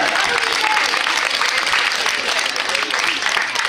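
An audience applauds Mickaël, the winner on a French Christmas TV special, with dense, steady clapping from a crowd that fills the whole clip at an even level.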